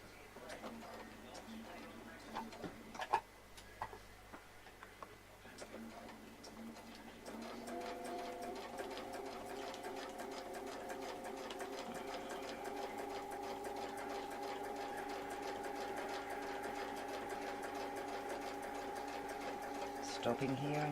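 Sewing machine stitching a quilt along a curly Q template: after a quieter stretch with light handling noise and a voice, the motor starts and runs as a steady, fast, close whirring chatter until the end.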